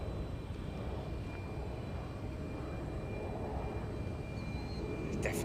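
An airplane departs runway 22 at Chicago O'Hare, a broad steady engine roar that stays loud and constant throughout.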